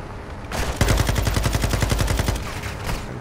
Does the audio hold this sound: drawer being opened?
no